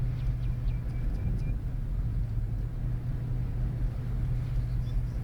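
A shiny green truck in the video game Lumberjack's Dynasty drives along with a steady low engine rumble, continuous and even, no talking.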